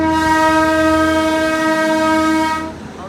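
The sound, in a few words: Darjeeling toy train horn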